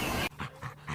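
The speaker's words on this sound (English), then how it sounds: "The dog is a domesticated descendant of the wolf." A dog panting close by, several quick rhythmic breaths coming after a brief burst of noise.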